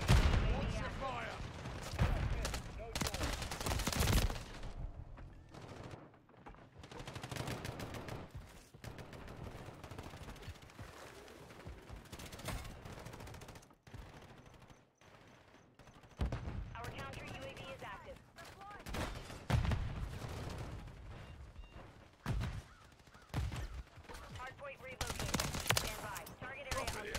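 Gunfire in the Call of Duty: Modern Warfare III video game, with repeated bursts of automatic rifle fire and heavier blasts in a Stash House match, dense and loud throughout and mixed with game radio chatter and voices.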